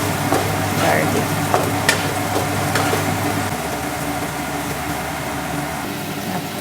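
Onions and garlic fry and are stirred in a pan for pansit bihon: a steady, close sizzle runs throughout, with occasional scraping strokes from the stirring.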